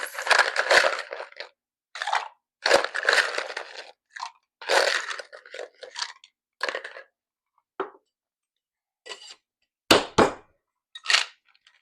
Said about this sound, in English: we're going to fill this guy to the top with ice